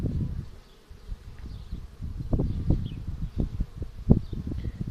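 Insect buzzing close by, irregular bursts from poisoned bees struggling to fly, with rustling in the background, no voices.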